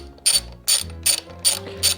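A ratchet wrench turns the bolts on an Evotech mounting bracket for a Garmin Zumo XT on a 2022 Triumph Tiger 900, giving five quick bursts of close clicking, evenly spaced, with no talk.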